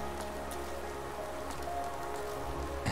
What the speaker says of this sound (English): what are you doing out in this miserable downpour?